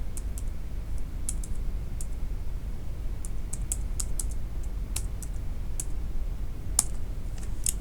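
A computer keyboard is typed on in scattered, light clicking keystrokes over a steady low hum, fairly close and with no talking.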